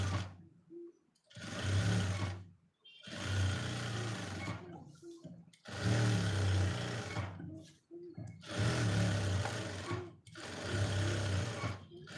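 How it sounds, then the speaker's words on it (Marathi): A sewing machine runs in four or five steady bursts separated by short pauses while stitching the sleeve of a katori blouse. Its close, humming whir starts and stops in a regular rhythm. "लगेच याला दाब टीप मारून घ्यायची आहे बाहीला"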